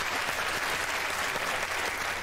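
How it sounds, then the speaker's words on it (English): An audience at a comedy panel show claps its hands, a dense and steady burst of applause filling the room throughout, loud and unbroken with no clear voices over it. "Fans, let me see you clap your hands."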